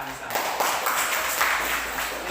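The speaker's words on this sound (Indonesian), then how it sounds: "tepuk tangan untuk Anissa" A classroom of students claps for a classmate, giving a soft, steady patter of applause heard from a slight distance and lasting a couple of seconds.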